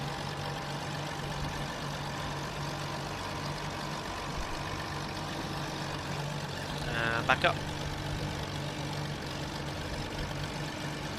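Cessna C337 Skymaster twin piston engines idling in the X-Plane 12 flight simulator, a loud steady rough drone like an old diesel tractor running throughout, with a brief spoken phrase over it.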